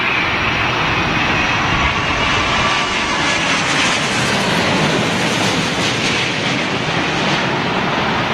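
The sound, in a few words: British Airways Boeing 787 Dreamliner landing at Heathrow in wind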